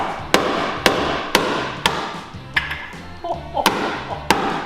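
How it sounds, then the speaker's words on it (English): A big hammer strikes metal to knock it flat during a road-car build using Formula 1 tyres, with about eight sharp, loud, ringing blows at an irregular pace and people talking between them. "Give him the big hammer."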